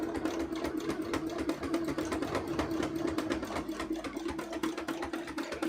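A sewing machine runs a fast, even stitch holding fabric in place, its rapid mechanical clatter and steady motor hum continuous and close, with no talking.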